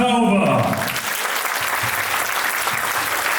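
An audience gives loud, dense applause for young performers of the Herio ensemble, continuous clapping throughout with a voice briefly audible at the start.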